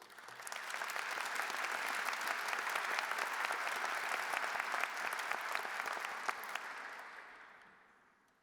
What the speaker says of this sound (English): we should applaud them tonight